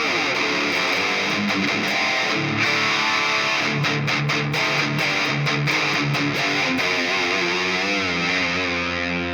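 Heavily distorted electric guitar through a modeled Marshall 1960 BV amp plays chords and riffs continuously, loud and saturated with a thick amp tone and no voices.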